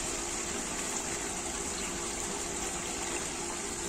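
Liquid pesticide pours steadily into a sprayer tank for crop pest control, a continuous wet gushing and trickling that runs unbroken and fairly loud with no talk.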